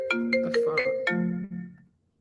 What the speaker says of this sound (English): I got a phone call that came through